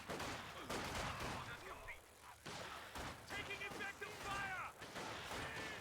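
A Zis gun artillery barrage in a strategy video game, a series of heavy booming impacts and scattered gunfire under continuous commentary.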